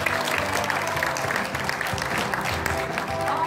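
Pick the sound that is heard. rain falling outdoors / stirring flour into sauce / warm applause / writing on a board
warm applause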